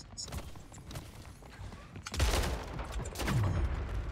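Shotgun blasts in an online gun game, two heavy booming shots about a second apart over busy game noise, loud and close.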